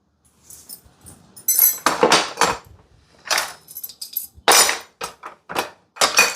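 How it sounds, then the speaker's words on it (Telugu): Steel spoons and ladles clink and clatter in a kitchen rack, with bright metallic jangles in uneven bursts and short quiet gaps, close and fairly loud. "ఇందులో అన్ని స్పూన్లు, గరిటెలు ఇవి ఉంటాయండి."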